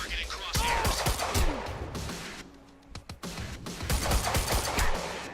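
Rapid gunfire in the video game Quantum Break: sustained volleys of sharp shots with crashing impacts, briefly easing midway before the heavy firing resumes.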